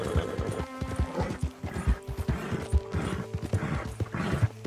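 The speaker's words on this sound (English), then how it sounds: "Bloody repetitive strain injury riding a bloody horse." Horse hooves clip-clopping steadily while riding in Red Dead Redemption 2, a fast repeated gallop rhythm close up over ambient game sound, with a brief whinny.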